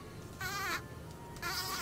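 Black hornet buzzing angrily up close, two loud wavering bursts of wingbeat drone separated by quieter stretches, with no talking.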